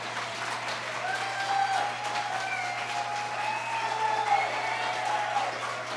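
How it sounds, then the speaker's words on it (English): A crowd claps steadily for several seconds, a dense, even wash of applause with a faint hum underneath. "Could you applaud one more time? Just applaud."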